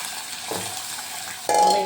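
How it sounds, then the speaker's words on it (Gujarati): Potatoes hit hot oil in a tempering with green garlic, giving a steady close sizzle, then a sudden louder hiss and crackle as more goes into the pan near the end. "તો આ બટેટાનો વઘાર મેં આપી દીધો છે તમે જોઈ શકો છો"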